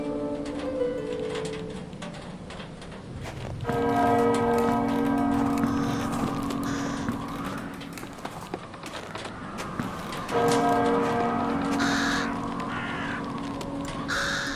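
Church bells in the video game Silent Night ring in layered, sustained tones that swell and fade twice, with crows cawing over them in a hollow outdoor setting; no one speaks.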